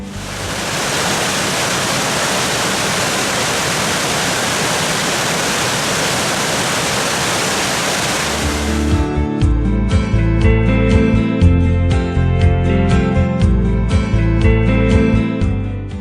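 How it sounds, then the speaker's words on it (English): Ganoga Falls, a 94-foot waterfall cascading into a wooded ravine, roars as a steady broadband rush for about nine seconds before music takes over for the rest of the clip. "Here, the mountain offers up its tallest cascade, Ganuga Falls, tumbling 94 feet down."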